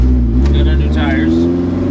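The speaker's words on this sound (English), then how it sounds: "You hear the motor" A vehicle's motor runs steadily on new Milestar Patagonia all-terrain tires, a continuous low engine drone, close and moderately loud, with a person talking over it.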